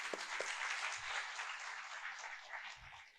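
An audience at a stage music programme applauding a light-music singer being welcomed with a tulsi plant: steady, moderately loud clapping filling the hall, with a couple of brief low thumps beneath.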